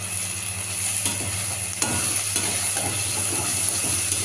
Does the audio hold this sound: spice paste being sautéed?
yes